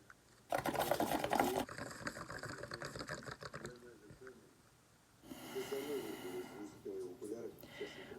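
A person inhales through a tube from a shaken bottle of salt-iodine solution, a short loud bubbling draw followed by steady gurgling liquid, then a second burst of bubbling later, with a nearby voice speaking between them.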